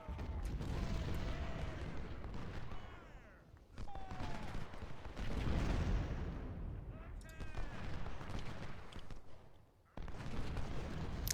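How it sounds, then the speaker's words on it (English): Civil War artillery thunders at the Battle of Philippi in a strategy game, with repeated heavy booms and rumbling volleys that rise, fade and return across the stretch. "So we've got the artillery going,"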